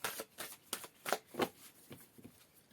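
Tarot oracle cards being shuffled by hand in a series of quick riffling bursts, close and fairly quiet, with short pauses between each pass.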